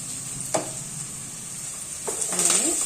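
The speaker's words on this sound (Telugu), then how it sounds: "ఇది తాలింపు వేగుతుంది." Tempering spices for a bhindi curry sizzle steadily in hot oil with a constant bright hiss, broken by a few clinks of a spoon stirring the pan.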